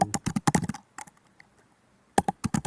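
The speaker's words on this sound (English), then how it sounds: "Miranda, you sound like you're angry at your keyboard." Rapid, forceful typing on a computer keyboard: dense bursts of sharp key clacks, a quieter pause with a few scattered taps, then another hard flurry of keystrokes, close and loud with no talking.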